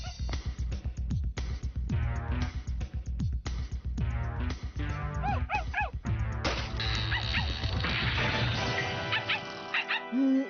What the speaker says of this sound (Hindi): अरे ये तो बस एक छोटा सा डॉगी है